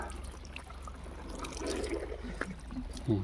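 Water from a charged farm pump flowing out and trickling on a farm, a soft continuous splashing with a few louder gurgles near the end and some quiet speech nearby.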